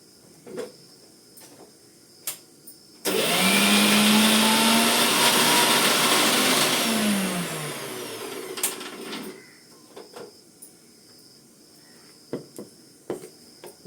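A mixer grinder blends three ingredients, coconut among them, into a sambar paste: a loud, steady whirring burst of about four seconds that winds down, with quieter clicks and handling before and after.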